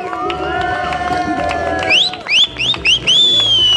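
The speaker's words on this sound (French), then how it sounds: "on peut l'applaudir le coréen s'il vous plaît" A crowd at an international ice climbing lead final cheers for the Korean climber Kwon Young, a steady roar broken by several loud rising whistle-like blasts near the end.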